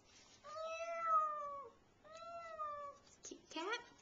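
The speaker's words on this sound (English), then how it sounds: "Cute cat." A cat meowing, three drawn-out rising-and-falling meows in quick succession, close and clear against a quiet background.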